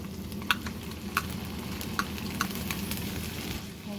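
Sesame oil, ginger and garlic sizzle in a pan, a close, steady bubbling hiss broken by a few sharp crackles and spoon scrapes from stirring, with no talking.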